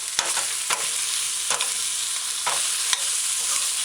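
Diced scallion sautéing in oil in a pan makes a steady, close sizzle throughout, with several sharp spoon taps and stirs against the pan at irregular intervals.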